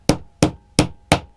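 A hammer strikes a metal punch four times in a steady, even rhythm, driving it through plastic card; each blow is a sharp, close, loud crack with a quick decay and no talk.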